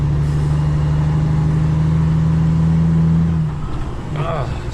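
A heavy truck hauling propane drives with a loud steady engine drone, then the tone drops as the driver shifts gears, with a brief rising whine afterwards, close and inside the cab.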